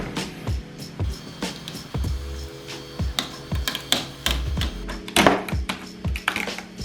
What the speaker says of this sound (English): remove all of the tape and packing materials inside the printer